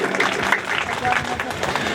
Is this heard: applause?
yes